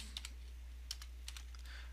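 Quiet keystrokes on a computer keyboard come in a few short, irregular bursts over a steady low background hum.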